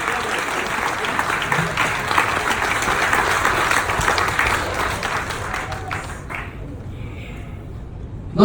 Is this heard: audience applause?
yes